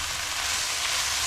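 Chicken sears in a skillet with plenty of olive oil, a dense, even, close sizzle holding steady through a brief moment.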